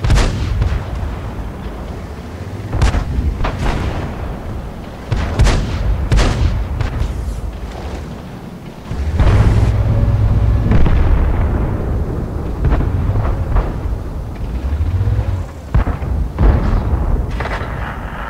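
Heavy tank cannon shots in a video game, a series of loud booming blasts with sharp onsets spread across the span, each trailing into rumbling decay over dense battle noise.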